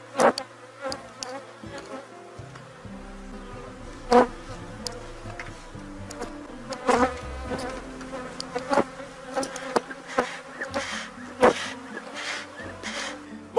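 Bees buzzing in an opened hive during a colony inspection, a steady swarm hum with sharp clicks and knocks from handling the frames, no talking.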